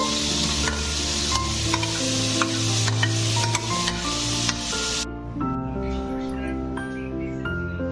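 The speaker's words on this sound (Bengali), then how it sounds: "মশলাটা এখন ভালোভাবে আমি কষিয়ে নিলাম" Spice masala sautéing in a pan for a Bengali fish-head ghonto, with steady sizzling and spatula scraping throughout and a background hum; the sizzle drops off sharply about two-thirds through, leaving quieter stirring.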